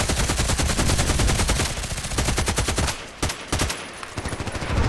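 AK-12 assault rifle firing in the shooter game Contract Wars, rapid automatic bursts of sharp, loud cracks in a fast steady rhythm over five seconds with only brief pauses between strings.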